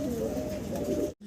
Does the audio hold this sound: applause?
no